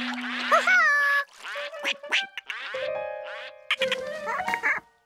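A cartoon duck with brown feathers quacks in a series of bright, nasal, squeaky calls, close and prominent, broken by short pauses and a few springy cartoon effects.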